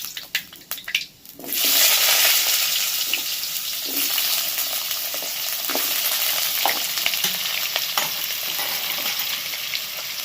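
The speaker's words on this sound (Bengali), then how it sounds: "আলু আর কুমড়োটা একটু ভেজে নিয়ে" Potato and pumpkin pieces dropped into hot oil with five-spice seeds and bay leaves, a few light clatters followed by a sudden loud sizzle that settles into steady frying with occasional stirring scrapes.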